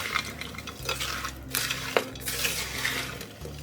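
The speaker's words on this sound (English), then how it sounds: "Then I'm gonna just stir all of that together." A spoon stirs berry peach cobbler filling with cornstarch, cinnamon, lemon juice and vanilla in a bowl, giving steady close scraping and wet swishing with light clinks against the dish over a low background hum.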